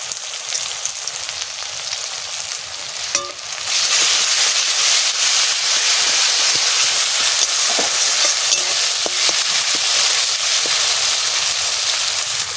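A paste of onion, tomato and ground spices fries in a pan, lightly salted, as new potatoes for dum aloo wait. A steady loud sizzle jumps up after a few seconds and holds, with occasional scraping stir sounds.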